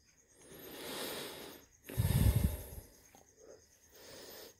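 Slow, deep yogic breathing runs as long, airy inhales and exhales, with one heavier, rougher breath in the middle, close to the listener and otherwise quiet.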